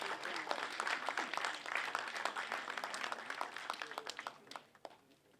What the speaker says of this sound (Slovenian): Še enkrat en velik aplavz vsem dobitnikom.